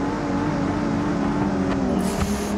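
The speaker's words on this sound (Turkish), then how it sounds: "arkamdan gaza basıyorsun, beni de gaza getiriyorsun" A car engine revs and accelerates close behind in the BeamNG.drive driving game, a steady loud roar over a BMW E30 drift run.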